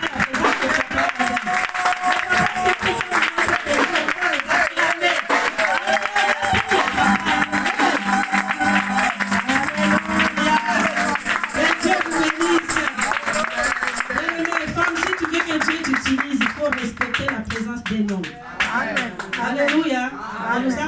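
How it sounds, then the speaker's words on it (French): A church congregation applauds in sustained, dense clapping that runs throughout, with voices rising over the crowd. "Est-ce qu'on peut d'abord acclamer pour le papa?"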